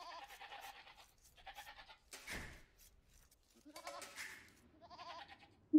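Goats in a video game bleat repeatedly, a string of separate nasal cries with short gaps between them, fairly close and clear over an otherwise quiet background.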